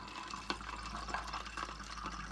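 Yellow bird cocktail poured into a glass, a faint close trickle and splash of liquid with a low steady hum underneath and no talk.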